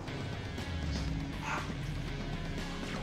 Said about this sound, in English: And now the dog won't shut up.